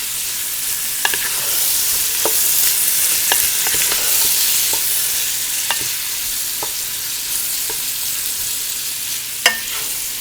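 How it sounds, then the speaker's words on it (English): Garlic and sausage sizzle steadily in hot oil in a pan for Italian zucchini, a constant frying hiss broken by scattered pops and light stirring clicks, close to the pan with no talking. "Give that garlic a chance to cook up a little in that oil."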